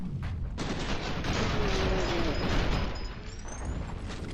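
Sustained gunfire from the video game F.E.A.R. 2: Project Origin rattles loudly in rapid, overlapping bursts that keep up with hardly a pause.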